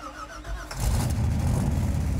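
A 1971 De Tomaso Pantera engine cranks briefly, then fires and settles into a loud, steady, rumbling idle close by.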